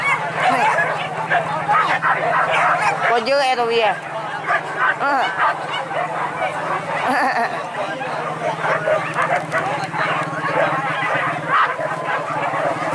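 Hunting dogs bark and yelp continuously in a rice field, loud and busy, mixed with goose-like honks and people talking throughout.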